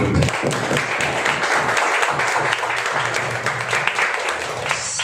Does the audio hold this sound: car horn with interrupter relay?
no